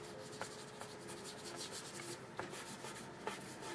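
A fingertip rubs watercolour paint across textured paper in short, soft scraping strokes, a close, faint dry swish repeated several times with small taps as the finger lifts and lands.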